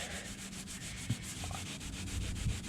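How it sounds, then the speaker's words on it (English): Steady scrubbing of a 1965 Chevy Bel Air's finish with an SOS pad and sprayed Windex, a continuous close rubbing rasp with a couple of brief knocks, no voices. "SOS pad, and I just spray it down with the Windex like this."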